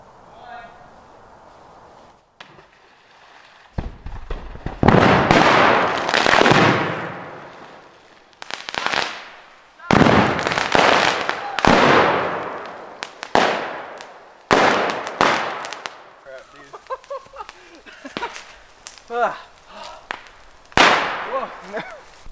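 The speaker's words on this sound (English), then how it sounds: "Bigger, better sodium explosion." A large lump of sodium explodes in a pond, setting off a string of loud, sharp blasts and bursts of spray separated by short gaps, with excited voices reacting between them.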